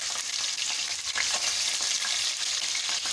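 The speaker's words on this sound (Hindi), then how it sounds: "दो मिनट तक हम गोश्त को इसमें फ्राई करेंगे, जब तक गोश्त का कलर चेंज नहीं हो जाता।" Pieces of beef fry in cooking oil for nalli nihari, a steady bright sizzle and crackle going on without a break at moderate volume, with no talking.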